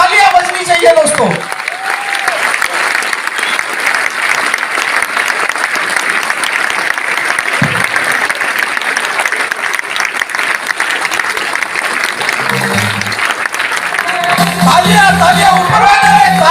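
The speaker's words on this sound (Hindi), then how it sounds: "आपकी तालियां बजनी चाहिए दोस्तों" Loud, continuous crowd applause at a stage event for a lifestyle business gathering, with a voice speaking over it at the start and again near the end.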